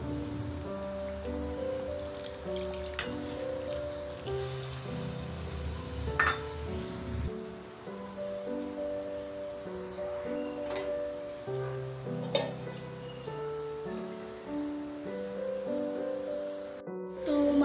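Hilsa fish cooking with mustard in a pan over medium heat gives a steady, faint sizzling hiss beneath continuous background music.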